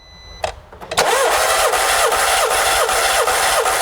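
A car engine cranks during a compression test with the spark plug removed: a few short starter bursts, then steady, loud, rhythmic cranking with a regular pulsing beat, close up and without talk.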